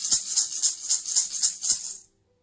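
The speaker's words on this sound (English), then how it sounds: "And group number 3 has the hummingbird rattle." A hummingbird rattle is shaken in a steady rhythm of about eight crisp, hissing swishes, loud and close, then stops abruptly.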